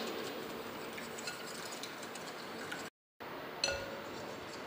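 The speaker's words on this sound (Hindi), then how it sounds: "3 अदद अंडे मैंने ले लिए हैं और इनको अच्छी तरह से मैं फेंट लूँगी" Three eggs are beaten in a bowl, a quick, light rhythmic clinking and tapping of a utensil against the bowl, faint and close, briefly interrupted by a short dropout, with no speech.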